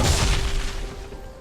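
A turret is destroyed in League of Legends: a loud, broad booming burst that fades away over about a second.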